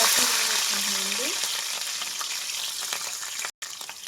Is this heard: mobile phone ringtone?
no